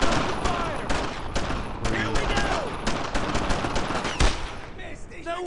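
Gunfire in the World War II shooter Brothers in Arms: dense, sustained bursts of rifle and machine-gun shots crackling without pause, loud and close, with a heavy boom near the end and shouted voices faintly mixed in.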